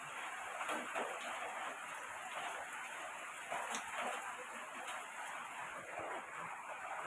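Heavy rain pours steadily outside, a continuous faint hiss of falling drops with no breaks.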